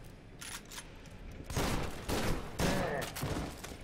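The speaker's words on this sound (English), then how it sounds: "Automatic shotgun." Automatic shotgun in the video game F.E.A.R. 2, firing several loud, heavy blasts in quick succession.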